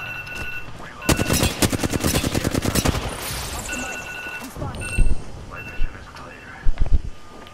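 Rapid automatic gunfire in the video game Apex Legends, a loud burst of evenly spaced shots followed by scattered single shots and game voice lines.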